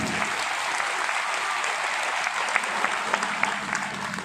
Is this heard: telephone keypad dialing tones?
no